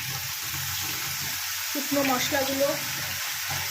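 Tomatoes and ginger paste sauté in a pan with a steady sizzle, broken midway by a brief gurgling splash as a little water goes in, then the frying hiss carries on.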